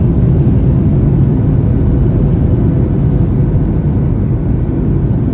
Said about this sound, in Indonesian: Ini kita mulai proses landing di Igusti Ngurah Rai Bali.